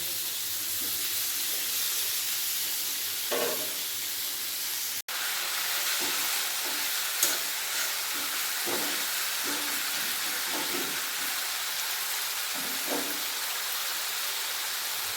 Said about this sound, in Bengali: এরপর টমেটো ভালোভাবে ভেজে নেবো